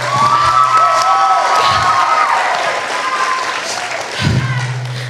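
A graduating high school class at a commencement ceremony bursts into loud applause mixed with cheering and shouts, a dense crowd roar that stays strong and then tapers slightly before swelling again.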